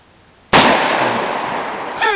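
A single close, loud gunshot from a handgun or rifle, one of a Glock 27, Hi-Point .45, Ruger GP100 .357 or Marlin Model 60, fired outdoors. A sharp crack decays over a second and a half, then a brief voice follows.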